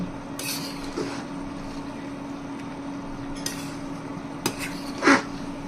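Boiling dal being stirred in a pot, with quiet scraping and a few scattered metallic clinks of a spoon against the pot, the loudest knock near the end, over a low simmering background.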